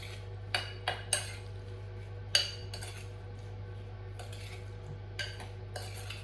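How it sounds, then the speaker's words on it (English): A spoon stirs a lemon-squeezed mixture in a bowl for gluten-free apricot and almond tarts, giving a handful of sharp metallic clinks against the bowl, spaced irregularly over a quiet steady hum. "And then just give that a little stir."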